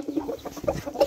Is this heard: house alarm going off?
no